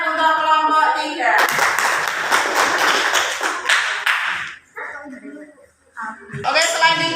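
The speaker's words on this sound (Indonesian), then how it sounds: "Tepuk tangan untuk kelompok 3." A classroom claps for a student group after its project presentation, a burst of brisk, close clapping lasting a few seconds. Voices talk before and after it.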